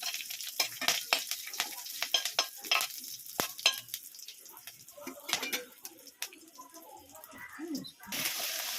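Mustard seeds, green chillies and curry leaves crackle and sizzle in hot oil while tempering for radish chutney. Stirring goes on throughout, with sharp popping bursts and a steadier hiss near the end.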